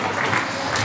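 Audience applause at a dolphin show at the Batumi Dolphinarium, a steady wash of clapping from a crowd, continuous and fairly loud through the brief moment.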